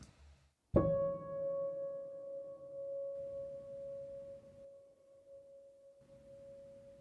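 A single sampled piano note, cleaned with spectral denoise, struck once and left to ring, a clear steady tone slowly fading over several seconds with faint background hiss.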